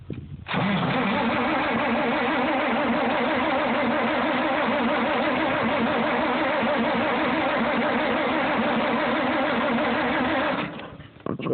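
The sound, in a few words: Farmall 460 tractor engine during a hard cold start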